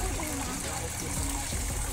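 Water trickles steadily from a natural outdoor fountain, a continuous close, bright splashing wash that runs the whole time with no break.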